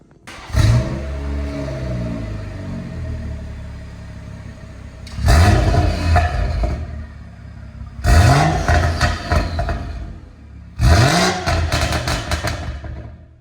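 A BMW 340i with the B58 engine fitted with a Scorpion stainless steel exhaust revs loudly nearby, starting with one sharp blip and then three long, strong revs with rising pitch and gaps between them, with no talking.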